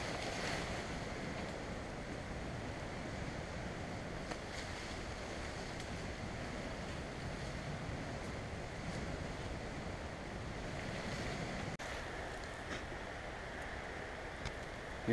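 Waves washing onto a beach with a steady, broadband wash of surf and wind noise, fairly soft and continuous throughout, with no voices.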